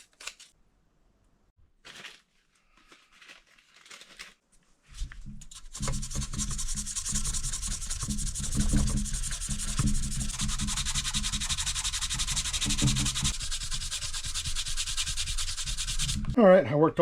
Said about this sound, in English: I worked all the way through my micro mesh sanding pads, and they've polished up pretty nice.